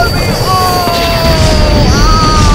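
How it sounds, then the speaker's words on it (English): Iron Man's laser blast from a superhero cartoon fires as a loud, sustained whining zap, with gliding tones stretched over a dense, rumbling roar that holds steady throughout. "Rasakan ini, laser Iron Man."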